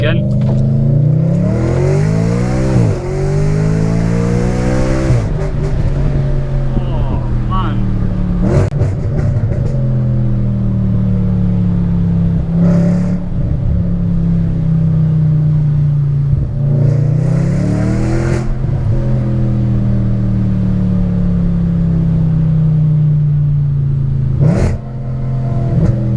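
A loud Audi RS5 engine revs hard again and again, climbing and falling through the rev range with crackling overrun pops, close up and continuous, while a voice talks over it.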